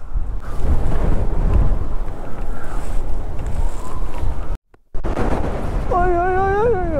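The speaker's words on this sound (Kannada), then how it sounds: "ಅಯ್ಯಪ್ಪ, ತೊಳ್ತದೆ ಗಾಳಿಗೆ. ಎಂಥ ಗಾಳಿ ಅಂದರೆ" Strong monsoon wind during a Kerala ride roars steadily across the whole clip, buffeting the microphone with a broad low rumble; a brief dropout interrupts it, and a faint tonal whine rises near the end.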